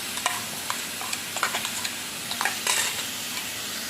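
A spoon stirs roasted gram flour and ground coconut for modak in a pan, with soft sizzling under repeated scraping taps and clinks against the metal.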